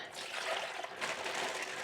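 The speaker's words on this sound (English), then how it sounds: "this dye, I'm just going to pour down the drain." Liquid dye poured down a drain makes a steady, close, hissing stream of water, quiet and continuous for a couple of seconds.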